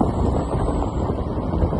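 Steady rushing wind buffeting the microphone while riding a Honda Beat scooter, a continuous low roar without pauses.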